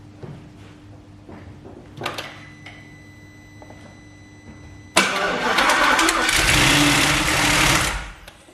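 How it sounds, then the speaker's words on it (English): An Audi RS4 engine cranks with a few faint attempts and brief noises, then catches with a sudden loud burst and revs steadily for about three seconds before dropping off. "that last clip of the engine turning over"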